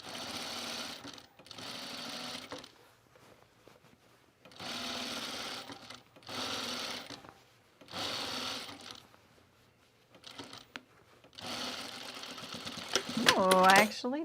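A sewing machine runs a basting stitch on a pajama top, in several bursts of fast steady whirring separated by brief pauses, close and clear, with a few mechanical clicks between runs.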